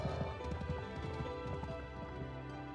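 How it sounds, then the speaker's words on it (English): Steady clip-clop of horse hooves from a video game, a continuous rhythmic trot of hoofbeats layered over background game music, moderately loud throughout. "I heard the sounds of a horse, not a motorbike or a pig."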